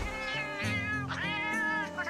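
A cat in the video game Metal Gear Solid: Peace Walker meows insistently in a drawn-out, wavering yowl, loud and close, with rising and falling pitch.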